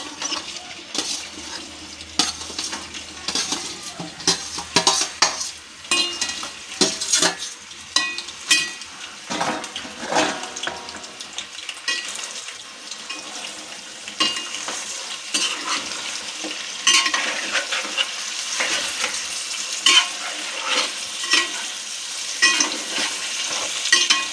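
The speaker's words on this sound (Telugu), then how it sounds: "ఇప్పుడు ఈ ముక్కలో నూనెలో వేసేసుకోవాలి" Chicken pieces for pickle sizzle and spatter in hot oil, a loud steady frying hiss broken by sharp clinks and scrapes of a utensil stirring in the pan, with no one talking.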